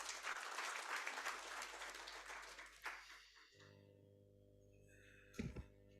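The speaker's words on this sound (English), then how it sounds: "Give the chief guest another big hand clap." An audience at an official Africa Industrialisation Day commemoration gives the chief guest a round of applause. The clapping is faint and distant, dies away after a few seconds, and leaves a low hum and a brief thump.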